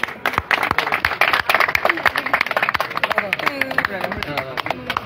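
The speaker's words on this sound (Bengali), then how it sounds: "সবাই জোরে একটা হাততালি দিন।" An audience claps loudly at the prize ceremony of a badminton tournament final, a dense burst of hand claps lasting several seconds, with a voice on a microphone over it.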